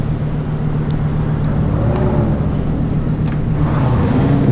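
A Lamborghini Urus S drives past on the road, a loud steady engine and tyre roar that holds throughout and swells slightly toward the end, with no talk.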